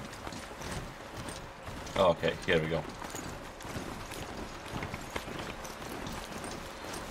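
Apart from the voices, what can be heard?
horse galloping, Horizon Zero Dawn video game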